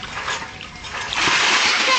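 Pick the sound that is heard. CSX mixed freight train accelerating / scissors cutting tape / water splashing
water splashing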